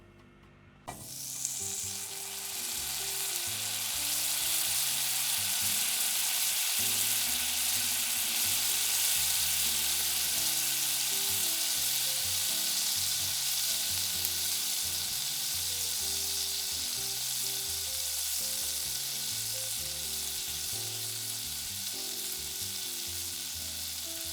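Butter, garlic and rosemary sizzle loudly in a pan with lamb chops, a dense, steady frying hiss that starts abruptly and then holds, close up with no talking.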